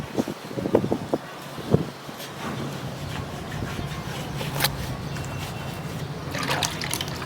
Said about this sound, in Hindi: देखे छी कितने बर्फ वाला पानी है